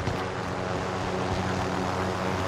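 A helicopter in Call of Duty Warzone drones as a steady broadband rotor and engine roar, loud and continuous throughout, with no talking.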